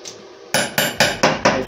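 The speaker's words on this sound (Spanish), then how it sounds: "retiren su pinza, péguenle con un martillo" A hammer strikes a weld made with a mini inverter welder to knock off slag, five sharp metallic blows in quick, even rhythm, loud and close, with no talk.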